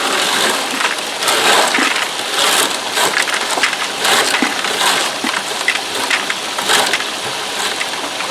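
Rocks from a prospecting punch plate tumble and rattle into a small 1-gallon bucket, a loud dense gravelly clatter that goes on without a break, with sharper stone clacks scattered through it.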